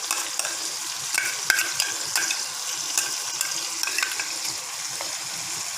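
Ground masala paste going into a mutton curry in a hot pan, a loud continuous sizzle broken by frequent stirring clatters and scrapes.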